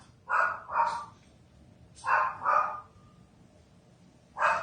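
A dog barks from a basement in a few separated bursts: two quick barks, a pause, another pair, then one more at the end, all slightly distant with quiet room tone between.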